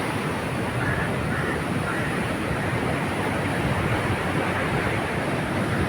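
Sea waves break on the beach where Vasco da Gama landed, a loud, continuous roar of surf mixed with wind rumble on the microphone, with no pauses and no talking.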